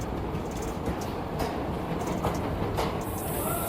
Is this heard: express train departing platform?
yes